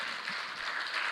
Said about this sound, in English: maybe we give them a round of applause for that